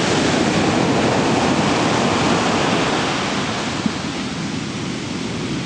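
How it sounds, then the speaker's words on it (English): Ocean waves crashing onto the shore at Centerville Beach, a loud, steady broadband roar of surf that eases slightly partway through, with no voices over it. "The waves crashing."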